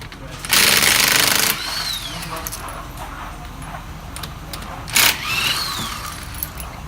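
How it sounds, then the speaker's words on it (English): Impact wrench loosening car wheel lug nuts during a brake rotor and pad job, two loud rattling bursts, one about a second long and a shorter one later, with someone speaking between them. "next we're supposed to loosen them with the impact, so let's get it started"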